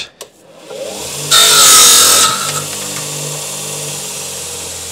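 A power saw bites briefly through the tip of a graphite golf fairway wood shaft, a 7 wood trimmed at the tip for a TaylorMade Stealth 2 build, a loud, close whine lasting about a second before fading into low workshop hum.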